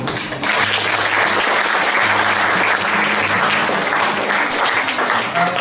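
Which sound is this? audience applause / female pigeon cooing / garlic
audience applause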